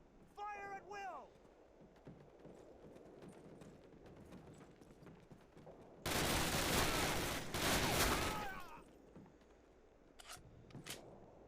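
Sustained rifle and machine-gun fire from soldiers in Call of Duty (2003), a dense loud burst of rapid shots lasting a couple of seconds, with scattered single shots before and after and voices speaking around it.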